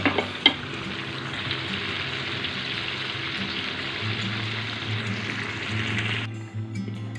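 Ingredients fry in a pan for a brinjal curry, giving a steady, moderately loud sizzle that opens with a few sharp clinks and fades near the end.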